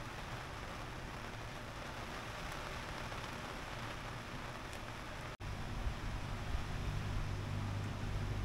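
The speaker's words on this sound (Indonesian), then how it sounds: "So kita layanlah buat kerja sambil hujan macam ni." Steady rain hisses down at a cold, windy hilltop glamping campsite in the Cameron Highlands at night, a dense close wash of drops on surfaces with a brief break midway, no voices.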